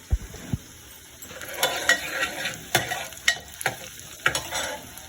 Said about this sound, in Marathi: कांदा एकदम छान ब्राऊन कलर येईपर्यंत फ्राय करून घ्या